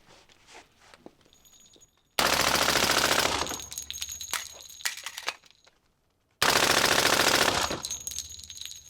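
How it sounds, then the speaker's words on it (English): A B&T APC-10 submachine gun in 10mm fires full-auto, two loud, sustained bursts emptying a magazine, each cutting off abruptly, with quiet shuffling and clinks of spent brass before and between. "a full mag dump of 10 millimeter"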